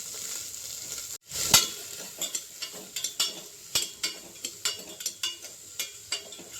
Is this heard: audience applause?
no